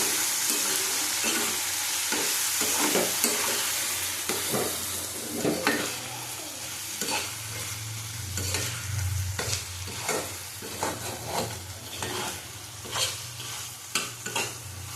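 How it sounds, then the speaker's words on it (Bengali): Spices with a little Kashmiri chilli powder being stirred and sautéed in a pan for a poppy-seed mutton dish. Steady sizzling runs under repeated scraping strokes of a spatula, and there is a low rumble partway through. "ভালো করে কষিয়ে নেব।"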